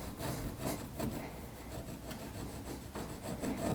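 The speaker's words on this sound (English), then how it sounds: "if I run my chisel over like this, carefully, it takes a lot of that off" A chisel shaves along the jagged round edge of a damaged wooden interior window sill, giving steady close scraping and rasping strokes with short pulses throughout, no talk.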